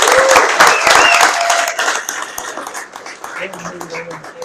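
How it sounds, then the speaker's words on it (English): A Douglas County audience bursts into loud, dense clapping for about two seconds, then the applause thins and fades as a voice begins talking over it. "Let's give George a big round of applause."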